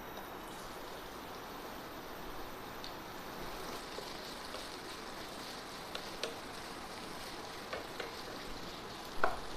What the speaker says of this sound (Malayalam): ബാക്കിയുള്ള സവാളയും കൂടെ നേരത്തെ വറുത്തെടുത്തതുപോലെ തന്നെ നമുക്ക് വറുത്തെടുക്കാം